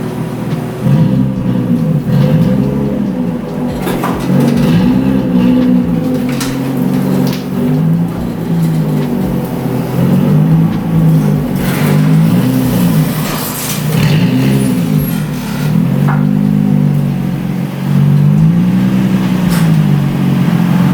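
A lowered Nissan 350Z driven on the street, its engine droning loud and steady with rising and falling revs throughout, heard close from inside the car.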